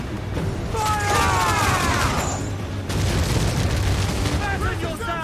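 Sailing-ship cannons fire in Assassin's Creed IV: Black Flag, a loud sustained barrage of booms and rumbling blasts in two heavy waves, with shouted voices over the battle.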